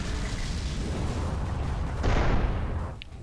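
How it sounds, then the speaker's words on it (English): A large explosion in the space shooter game Everspace, a loud rumbling blast that swells about two seconds in over continuous engine-like noise, then fades with a short bright ping at the end. "that was a huge explosion."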